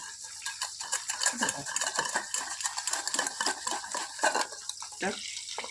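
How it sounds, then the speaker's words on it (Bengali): A knife chopping tomato on a board in a home kitchen, with rapid, irregular clicks and taps close by over a steady background hiss, some light clinks of utensils mixed in. "এবার আমি টমেটোটা কুচিয়ে নিলাম।"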